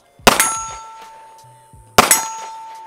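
A Strike Industries Glock 19 clone pistol with a compensator, red dot and weapon light fires two sharp, loud shots about two seconds apart at an outdoor range, each followed by a lingering metallic ring.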